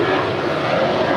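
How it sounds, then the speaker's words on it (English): A Polar Air Cargo Boeing 747-8 on final approach to touch down on runway 25 left at LAX, its engines a loud, steady roar close by with no break. "It's a 747-8 coming in from Anchorage, flight 968, now just moments away from touching down at 25 left."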